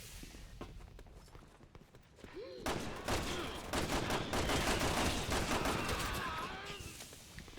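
Dense, continuous gunfire and bursts of shots in the Resident Evil 6 Mercenaries game at High Seas Fortress, loud and sustained after a quieter opening, with rapid overlapping reports.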